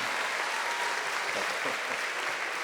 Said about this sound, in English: please, a round of applause for Adam